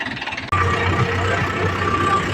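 A tractor hitched to a trolley idles in a Punjabi village, its low, steady engine hum starting abruptly and running evenly without a break.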